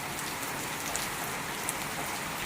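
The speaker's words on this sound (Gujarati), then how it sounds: "અને સતત ધીમી ધીમી ધારે વરસતો વરસાદ ક્યારેક ધીમો તો ક્યારેક ફૂલ" Steady light rain falls on a grassy, waterlogged village courtyard beside a house with a metal sheet roof, a continuous soft hiss with faint scattered drips and no voices.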